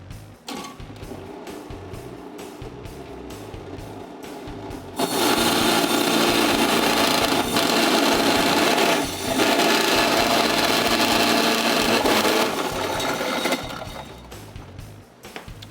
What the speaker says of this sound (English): Turn the machine on.